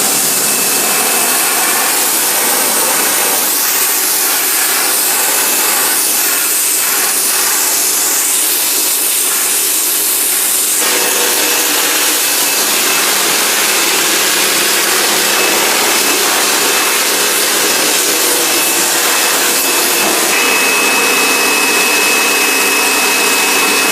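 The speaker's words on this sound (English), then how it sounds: "So we use the jet wash to clean this chair down, and it has stripped off all of the dirt" A jet wash pressure washer sprays a wooden chair to strip off dirt and algae, giving a loud, continuous hissing spray that shifts in tone as the jet moves across the wood.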